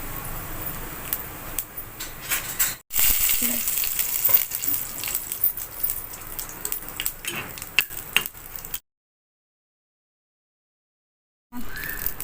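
Oil sizzles and crackles steadily as lentils and dried chilies fry in a pan, with occasional stirring clinks, then drops to silence before the sizzle briefly returns.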